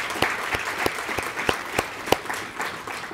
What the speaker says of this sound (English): So big round of applause for the chairs and all the other volunteers.